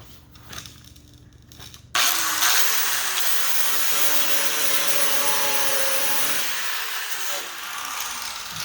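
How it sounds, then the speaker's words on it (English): A grinder cuts down repaired metal on a dented car body panel. After a quiet start it bursts into a loud, sustained whine with a rough, gritty edge that holds steady, then eases slightly near the end. "We're gonna grind that piece down again."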